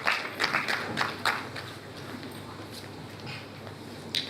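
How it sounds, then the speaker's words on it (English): A conference audience claps in an indoor hall, with scattered hand claps that thin out after the first couple of seconds over a murmur of room noise and background voices. "Let's keep clapping until he gets here."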